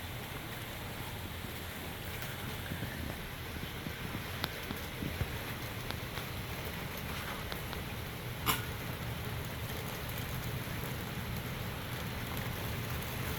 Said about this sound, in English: Sound like it's hailing. It is the rain.